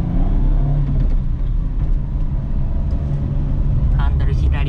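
A Suzuki Jimny JA11 engine revs hard at low road speed, a steady loud rumble and whir that holds throughout while people talk over it inside the cabin.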